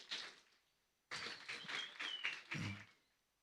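Church congregation applauding at a Sunday service, faint and somewhat distant clapping in short bursts with brief pauses between them.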